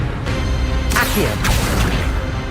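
An Accio summoning spell in a Harry Potter video game: a bright swooshing zap followed by a second whoosh and a clattering impact, set against low background rumble and game voices.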